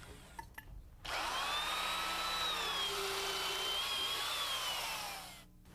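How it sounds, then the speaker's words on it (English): A heavy-duty drill motor with a sharp auger bit bores a hole in wood, a sustained whining grind lasting several seconds after a short start, then winding down. "We use a heavy-duty drill motor and a good sharp auger bit to drill our holes."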